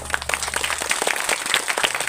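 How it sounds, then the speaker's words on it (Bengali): Audience clapping at a Bengali stage play reunion event, a brief scattered patter of hands at moderate distance, fairly light and uneven, with no talking over it. "আপনাদের একটু হাততালি দেবেন।"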